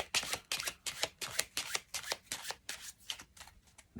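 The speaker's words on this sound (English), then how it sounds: "Here's the first shuffle." A deck of cards is riffled in rapid crisp bursts, a quick run of flicks repeating for several seconds, close and alone.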